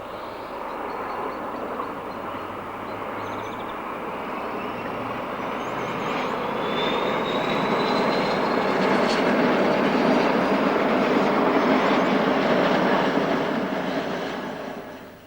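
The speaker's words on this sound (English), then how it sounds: "Great North Eastern Railways retain a few HSTs for services beyond the wires, such as this one, the 10:30 King's Cross to Aberdeen." GNER HST high speed train, the 10:30 King's Cross to Aberdeen service in 1999: a broad rushing roar that swells steadily as the train approaches and passes, with a faint rising whine above, fading at the very end.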